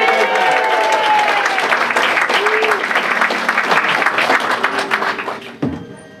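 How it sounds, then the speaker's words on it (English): A magic show audience applauds, the clapping loud and sustained before thinning into scattered claps and fading near the end, with some voices underneath. "Come on, one more round of applause."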